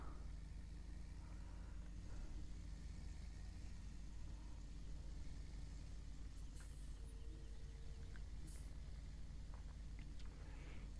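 Tractor engine in Farming Simulator 17 drones steadily throughout at low volume, a constant mid-low hum with faint incidental clicks and no speech.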